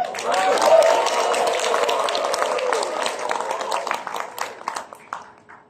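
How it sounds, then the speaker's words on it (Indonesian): Audience applause at a parliamentary (DPR RI) launch event for the Nusantara app, a dense steady wash of clapping that fades out toward the end, with some voices mixed in. "Dan kita berikan tepuk tangan untuk teman-teman Pustek Info."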